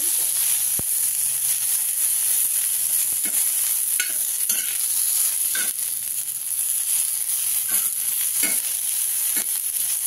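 Green chillies frying in hot oil give a steady, close sizzle and hiss, broken by occasional stirring scrapes and clicks, with no talking.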